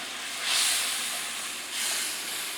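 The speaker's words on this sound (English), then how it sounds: "we're gonna take those reserved juices from the tomatoes and the green chilies, and we're gonna use it to deglaze the pan" Reserved tomato and green chili juices hit a hot pan to deglaze it, giving a soft, steady steam hiss that swells twice over a couple of seconds.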